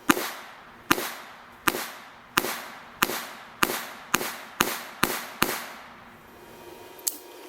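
Series of about eleven sharp, loud shots from a Smith & Wesson Bodyguard .380 micro-compact pistol, fired at a steady pace, each with a short decaying echo, and one final shot after a brief pause.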